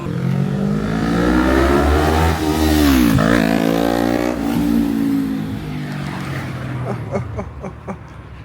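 Motorbike in Thailand revving hard nearby, its engine pitch climbing, dipping and climbing again, then easing to a lumpy idle with a few sharp pops at the end, no clear talk over it.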